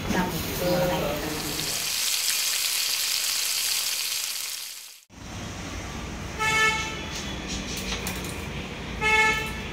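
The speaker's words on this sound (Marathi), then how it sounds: "अंकिताने तिकडे वांगी भाजायला ठेवलेली आहे" Eggplants roasting over a flame give a steady broad hiss and sizzle that fills the clip, cut by a short silent gap midway, then resume with faint tonal chirps layered on top.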